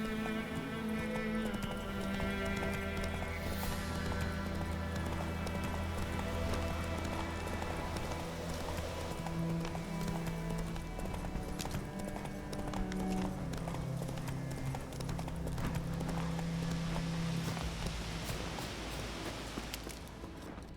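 In The Witcher 3, a horse gallops in a fast, steady clip-clop of hooves, heard close and continuous over game music throughout.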